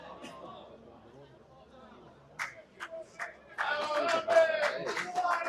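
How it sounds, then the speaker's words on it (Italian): Spectators applauding in the stands at the Favazza football stadium during an amateur Promozione Sicilia match, a few scattered claps building into a sustained round of clapping, with a commentator's voice running underneath at the start. "Applaudito"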